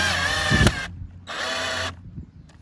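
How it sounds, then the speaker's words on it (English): Cordless power drill driving screws into pre-drilled holes while mounting a low voltage landscape lighting transformer box outdoors, two short whirring bursts separated by a pause, close and loud, no voice. "Now just screw the screws into the holes that we just made."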